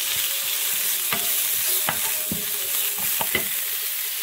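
Onions fry in a tablespoon of hot oil in a pan while cooking broccoli bhorta, giving a steady close sizzle with a few sharp stirring clicks and scrapes scattered through it.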